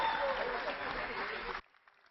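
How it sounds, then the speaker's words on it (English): Audience applause at a future-of-work dialogue event, a dense burst of many hands clapping that cuts off abruptly after about a second and a half, leaving near silence. "louder round of applause."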